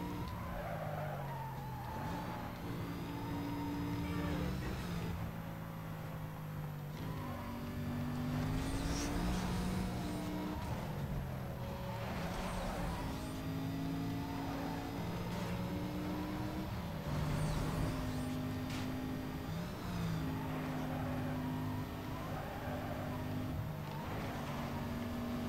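Racing cars in Need For Speed Most Wanted, continuous engine whine with shifting revs and repeated tyre squeals and skids from drifting, a sustained video game soundtrack at a moderate level.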